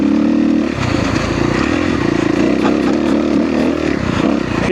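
A 2013 Kawasaki KX250F dirt bike engine runs loud and close throughout, holding a steady buzzing drone with small surges in throttle and no pauses.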